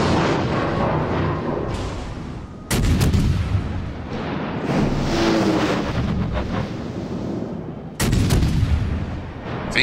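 Heavy naval guns from battleships in the World of Warships: Legends game fire in loud broadband booms, with sharp blasts near 2.7 and 8 seconds over a dense, continuous roar of battle noise. No voices are present.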